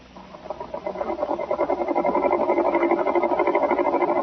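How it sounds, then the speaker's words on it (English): Sewing machine sound effect in an old radio drama, a rapid mechanical whirring chatter that starts quietly and builds to a steady loud rattle, alone with no voices. "Miss Winthrop, you heard the sewing machine just now."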